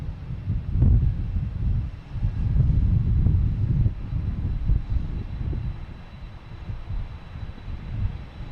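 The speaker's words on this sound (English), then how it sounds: "We have a Delta taking off," Delta airliner taking off at Boston Logan Airport, a loud, steady low jet-engine roar at a distance with some wind buffeting on the microphone.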